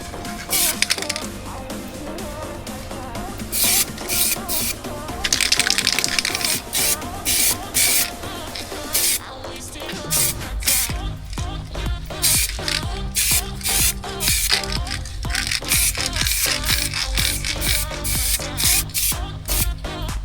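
Short bursts of aerosol spray paint dusting onto an airsoft gun, repeated hisses in an irregular rhythm over a steady background hum, fairly close and moderately loud.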